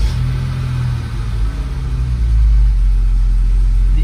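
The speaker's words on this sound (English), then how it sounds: "As soon as you turn your car on," A Mercedes 107 SL engine turns over and catches, a loud low rumble that swells into a steady close-up idle.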